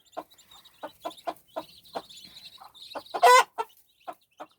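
Hen clucking in short, repeated bursts, close and fairly clear, with one louder squawk partway through before the soft clucks resume.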